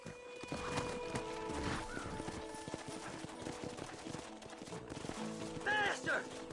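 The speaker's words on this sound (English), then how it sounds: "Horses are over here." Horses in the Red Dead Redemption video game, clip-clopping hooves and a whinny amid game music and ambience, steady rhythm at moderate distance, with a brief louder neigh near the end.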